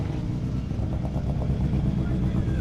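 Rally car with a partly broken exhaust running a tight stage, a steady rough engine drone heard from nearby, with people talking over it.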